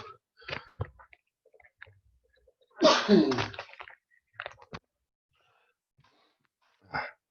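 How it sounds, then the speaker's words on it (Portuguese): A single sharp sneeze bursts out, loud and close, preceded and followed by small breaths and faint mouth sounds in a quiet room. "Vou espirrar de novo."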